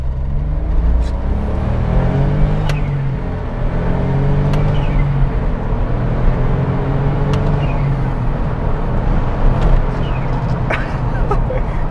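A Smart Roadster's small engine holds high revs on a narrow Lake District back road, a steady buzzing drone heard from inside the car with faint road rumble and occasional clicks throughout.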